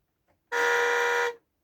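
A single steady electronic horn blast from a 6-volt battery-powered ride-on toy car, bright and buzzy, held for about a second and then cut off, near and loud with silence around it.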